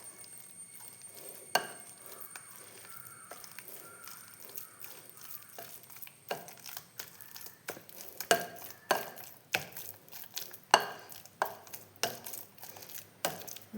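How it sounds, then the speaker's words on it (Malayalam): Ripe banana mashed with a spatula in a bowl or pan for a bread-and-banana snack: soft scraping gives way to a run of close, rhythmic taps and thuds that grow stronger and more regular. "ഒരു സ്പാച്ചിൽ വെച്ചിട്ട് ഞാനിത് നല്ലവണ്ണം ഉടച്ചെടുക്കട്ടെ."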